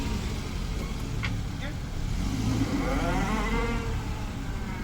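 Suzuki Ravi or Changan M9 pickup truck driving with a 2.5 ton load: a steady engine and road drone runs throughout, with someone talking over it.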